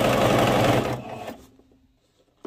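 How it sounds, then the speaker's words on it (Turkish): A sewing machine stitches elastic into a gathered fabric skirt, running in a fast steady whir for about a second before slowing to a stop, followed by a single sharp click, close by. "Aynı şekilde çektirerek dikiyorum."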